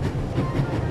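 A train runs at full speed in the video game The Raven: Legacy of a Master Thief, giving a loud, close, steady low rumble with faint clattering wheels and no talking over it.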